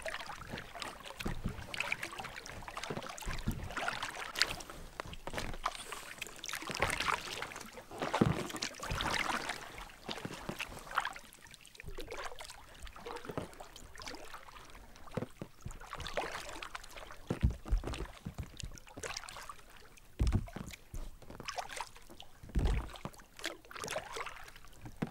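Packraft paddled along a fast-flowing river through the Taubergießen Rhine floodplain, paddle strokes and splashing water continuous and close, with swirling current noise and occasional louder dips.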